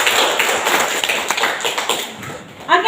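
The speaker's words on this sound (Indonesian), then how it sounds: "ditandai dengan tepuk tangan yang meriah dari Bapak Ibu" An audience of teachers at a school training session at SMAN 1 Kupang claps enthusiastically, a busy spread of hand claps that thins toward the end as a voice begins.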